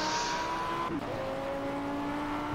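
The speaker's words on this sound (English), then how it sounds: "Right, so now we've got the normal V10. And as you would expect, it does sound nice." An Audi V10 road car engine in the Project Cars racing game, a steady sustained engine note with a brief dip near one second, tire noise underneath, close and continuous with no talk.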